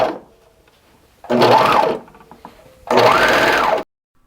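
A sewing machine stitches elastic onto leotard fabric in two loud, close bursts of rapid whirring, each lasting about a second, separated by quiet pauses.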